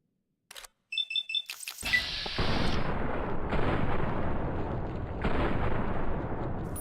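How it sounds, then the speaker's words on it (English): Gunshots fired into a wall in a video game wasteland adventure: a few quick sharp clicks and shots, then a loud blast followed by a sustained rumbling roar of noise, with no talking. "I was just accidentally shooting the wall."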